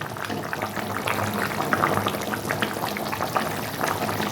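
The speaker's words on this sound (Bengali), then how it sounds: "ঝোলটা কমে যাওয়ার আগে মাছগুলো এইভাবে দিয়ে দেবো বন্ধুরা দিয়ে আবারও বেশ কিছুক্ষণ এইভাবে ফুটিয়ে নেব" A Bengali fish curry with potato and pointed gourd bubbles steadily in a pan, a dense, continuous simmering burble with soft popping, close and fairly loud throughout.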